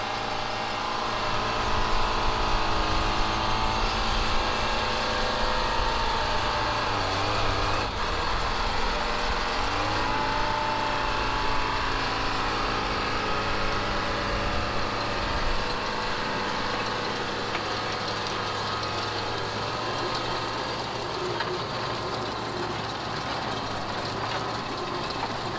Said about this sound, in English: this Spiker wheel trencher here